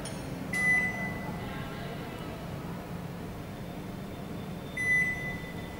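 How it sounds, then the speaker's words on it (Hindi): A built-in microwave oven (GL 672) on its defrost function beeps once and then runs with a steady low hum. A second beep sounds near the end, close by and at moderate volume. "स्टार्ट बटन प्रेस करें, माइक्रोवेव डीफ्रॉस्ट फंक्शन पर स्टार्ट हो जाएगा।"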